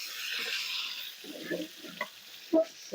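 Pangas fish fries in oil in a wok, giving a soft, steady sizzle for about a second, then a few brief clinks and scrapes of the pan close by.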